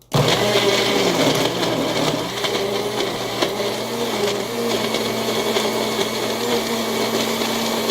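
A blender whirs loudly and steadily while it mixes a strawberry milkshake, the motor running alone with a constant hum from start to finish.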